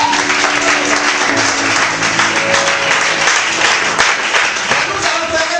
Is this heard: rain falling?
no